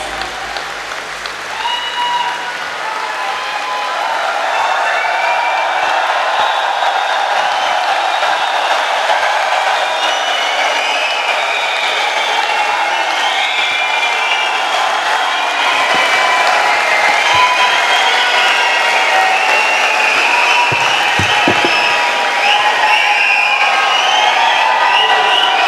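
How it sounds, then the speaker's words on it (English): A conference hall audience at the CBOA 19th Triennial conference gives dense, sustained applause to welcome a speaker, loud and steady throughout without speech on top. "please welcome him with a big round of applause."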